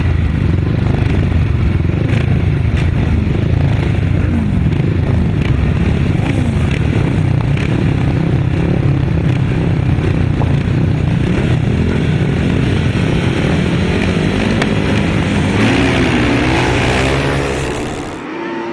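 Grasstrack racing motorcycles launching from the tapes at a race start, a dense, loud roar of several engines revving together continuously, tailing off toward the end as the pack pulls away.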